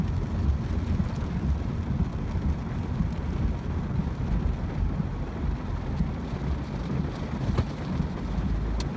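Thunder rumbles through heavy rain while driving in a flash-flood-level downpour, a dense, steady roar of rain and low rumble filling the whole stretch with no voices.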